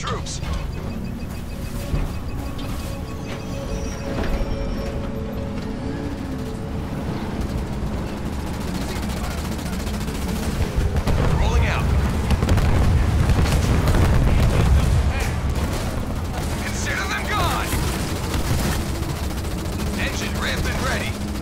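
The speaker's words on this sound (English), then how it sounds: "Under fire from ground troops." Ground-troop gunfire in Halo Wars 2 rattles on steadily as dense, continuous bursts and booms under battle noise throughout, with a voice speaking over it.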